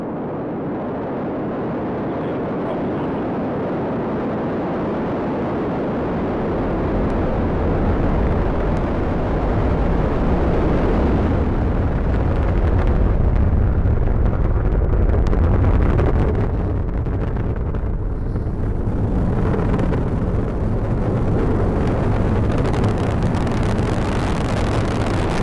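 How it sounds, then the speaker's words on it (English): A SpaceX Falcon 9 carrying a Cargo Dragon resupply capsule lifts off, its engines producing a loud, continuous, broadband roar that swells and rumbles heavily throughout, with a gusting, wind-like texture. "And liftoff as Falcon 9 and Cargo Dragon take flight"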